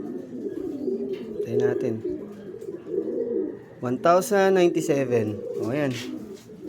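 Racing pigeons arriving at a loft during a derby give soft repeated cooing calls over nearly constant nearby talk from several people, with a brief louder burst of calls in the middle.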